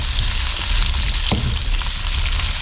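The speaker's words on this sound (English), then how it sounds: "Just mix them around, turn the heat down a bit. Just want them sauteing, not burning." Onions sautéing in a pan over turned-down heat for Indian-style goat curry, a steady close sizzle with a brief clink partway through, no voices.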